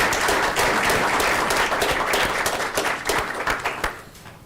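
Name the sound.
audience applause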